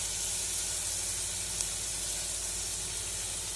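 Turmeric powder cooks in hot oil in a frying pan, a faint, even hiss of sizzling that holds steady from start to finish with no voices.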